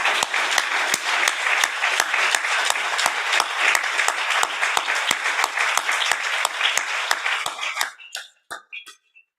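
Conference audience applauds with a strong, even wash of clapping and a few distinct claps standing out at a steady pace, then it thins to a few last scattered claps and stops.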